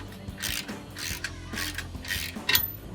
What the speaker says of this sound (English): So I'll start that. 16 millimeter socket again.